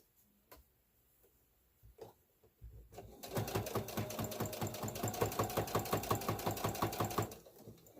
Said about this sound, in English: I'm going to back stitch a little ways